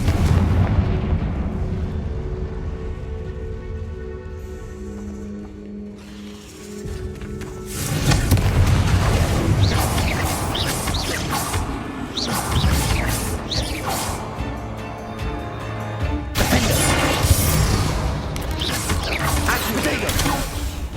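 Confringo blasting spells in Hogwarts Legacy hit with repeated heavy crashing explosions, loud booming blasts that follow one another over several seconds after a quieter opening with game music.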